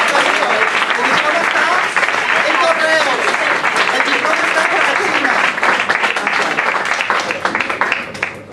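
Audience applause fills a film festival award ceremony at the Asturian film festival prize giving, dense sustained clapping from a crowd throughout, loud and close, with a voice briefly speaking over it.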